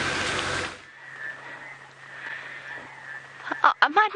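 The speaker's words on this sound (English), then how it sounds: "before we start hearing the rubber frogs constantly" Rubber frogs call at sunrise during a safari drive. A rush of broadband noise cuts off and gives way to a quiet, humming stillness, then a quick cluster of sharp, rubbery croaks bursts out close by at the end.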